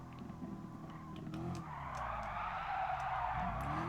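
A car drifts through a corner in the Gran Turismo Sport racing game, its tires skidding in a steady, loud, sustained screech over the engine's drone, with no talking.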